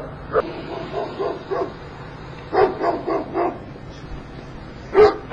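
Dog barking in short bursts, a couple of quick barks followed by a cluster of several and a final louder one, moderately near, heard during a police encounter with the dog.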